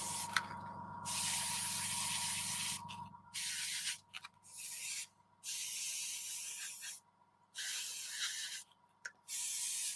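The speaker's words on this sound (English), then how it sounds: "there's the compressor firing in." An air compressor hums for a few seconds while an airbrush sprays paint onto a MiniArt Bantam scale model kit, then several short, faint hissing bursts of spray start and stop.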